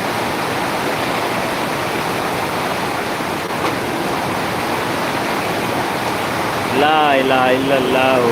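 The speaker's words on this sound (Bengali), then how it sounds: "যে পরিমাণ বৃষ্টি হচ্ছিল" Steady, heavy rain roars continuously in Dhaka, with a voice speaking briefly over it near the end.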